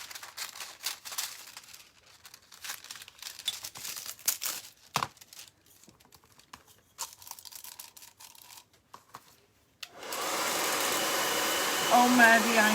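A heat tool blows steadily onto foil wrapped over a clay pot, a broad loud rush that starts abruptly partway through after quieter crinkling and handling noises.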